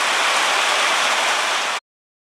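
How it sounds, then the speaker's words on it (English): Steady rain falling outdoors on berry bushes, apple trees and a garlic patch, a dense even hiss that holds constant and then cuts off abruptly, with no voices. "Another good rain for all my berries and apples and garlic."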